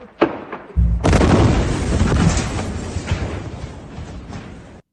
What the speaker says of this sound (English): So that right there is the explosion.